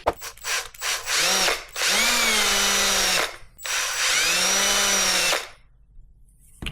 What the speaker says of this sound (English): let's drill some eyes